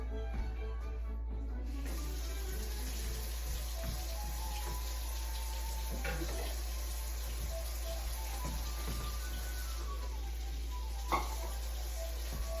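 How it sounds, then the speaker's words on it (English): A kitchen tap runs in a steady, soft stream under a low constant hum, with a few faint clinks and knocks. "I've got to turn on the water"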